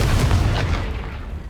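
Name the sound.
Confringo blasting spell in Hogwarts Legacy video game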